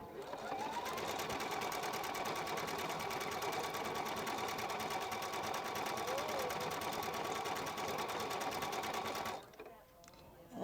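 A Husqvarna Viking Epic 2 sewing machine stitches steadily at speed, a loud, even mechanical whirr with rapid needle ticking that runs continuously and then stops near the end.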